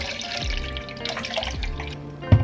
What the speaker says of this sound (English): We are filling my water dispenser that I use to water my plants